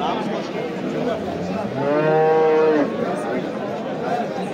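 A cow lets out a single drawn-out moo, close and clear over the busy murmur of voices and crowd noise at a livestock market in Tashkent region's Bo'ka district.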